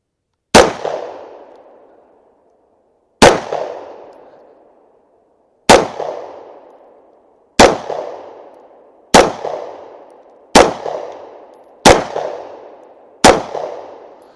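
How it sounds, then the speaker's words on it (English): Eight sharp, loud gunshots from a Smith & Wesson M&P9 Shield EZ 9mm pistol fire one at a time at uneven intervals of one to three seconds, each leaving a short ringing decay, with no talk. "let's shoot this thing"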